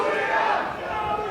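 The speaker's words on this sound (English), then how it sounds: "And certainly is a great crowd here at Dewsbury" Rugby league supporters at Tetley Stadium, Dewsbury, during a Dewsbury Rams versus Keighley match, roar and cheer in a dense, steady wash of crowd noise that holds throughout the short stretch.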